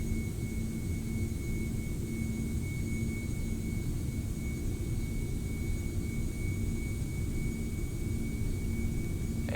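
Jet engines of a Lufthansa Boeing 747-400 at takeoff thrust in X-Plane 11, a steady, loud, continuous roar with a thin high whine running throughout and no talk.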